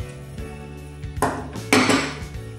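A metal cake tin is set down inside a preheated pressure cooker over a lit flame, giving a few close metallic clanks and scrapes, loudest near the end.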